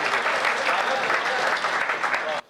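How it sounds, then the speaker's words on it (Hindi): Audience at a Hindi poetry recital applauding steadily, a dense, loud wash of clapping that holds for the whole stretch and cuts off abruptly at the end. "एक बार आपकी तालियों की मोहर लग जाए।"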